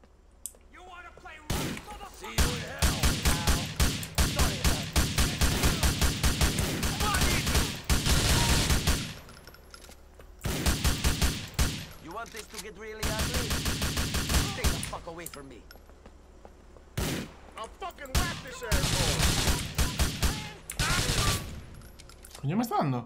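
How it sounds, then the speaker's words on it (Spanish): Rapid gunfire crackles in repeated long bursts during Grand Theft Auto IV gameplay, loud and dense with brief pauses between volleys, and someone speaks Spanish now and then between the shots. "El disparo al tobillo también mata."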